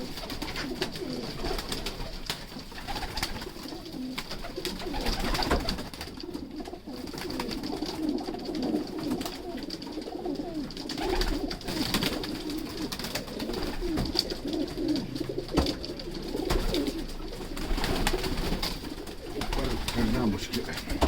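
Sialkoti pigeons coo steadily in a low, murmuring chorus throughout, with bird noise and faint background voices mixed in.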